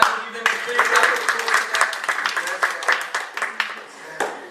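Parents clap at a martial arts white belt ceremony, producing a lively burst of close, uneven handclaps. A voice is heard briefly under the applause as it gradually thins out.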